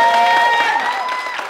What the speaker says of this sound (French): Les gars, applaudissements pour eux